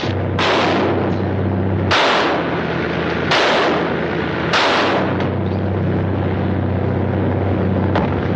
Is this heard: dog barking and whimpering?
no